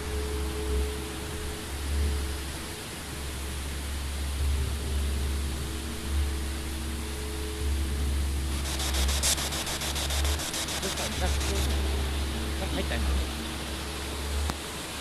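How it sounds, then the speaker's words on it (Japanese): A rushing river runs beneath a suspension bridge at the Oiran-buchi gorge in Yamanashi, its loud, steady broadband roar filling the whole clip, with low rumbling pulses and a brief burst of clicking partway through. "川の音でね、ちょっと聞こえない。"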